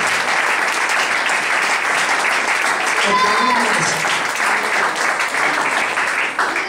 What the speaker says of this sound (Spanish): Un aplauso al Salvador.